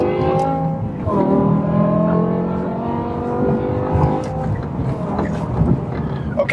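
A Dinan-tuned BMW E60 M5 with its V10 engine holds a steady, loud, high-pitched drone, the revs climbing smoothly as it accelerates hard with a sharp whine running throughout.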